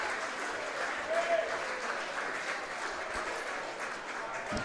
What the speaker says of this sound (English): Applause from the crowd here as Kurzminski will slowly make his way down to first base.